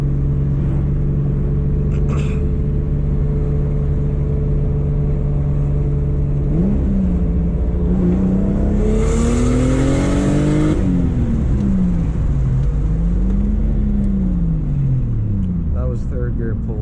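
A Mazda RX8 swapped to a 2JZ engine pulls hard through third gear, its drone swelling and rising in pitch to a peak before dropping and surging again, loud and close, with voices faintly in the background.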